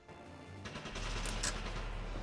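A rocket or gun shot fired in the Valkyria Chronicles war game, a sharp burst around the middle of the clip over a steady low rumble, moderately loud, with no talking.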